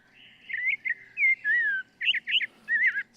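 A plain-colored songbird from Costa Rica or Panama singing, a series of clear, sweet whistled notes and quick chirping phrases, fairly near and alone against quiet background.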